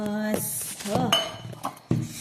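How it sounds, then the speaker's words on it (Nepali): Metal pots and dishes are pulled out in a home kitchen, giving a run of close clanks and clatters, with some pieces ringing out in sustained tones between knocks. "यहाँ भाँडा निकाल्छु ल"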